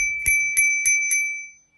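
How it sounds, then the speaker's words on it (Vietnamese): A tower-shaped bicycle bell rings four quick, bright strokes in an even rhythm, close and clear, leaving a ringing tone that fades out afterward. "Chuông hình tháp 15k."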